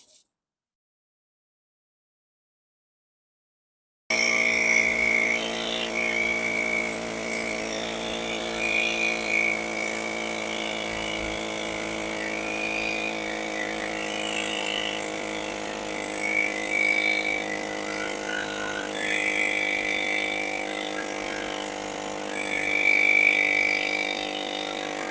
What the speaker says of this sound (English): let me continue cutting it down into sections and we'll see how it goes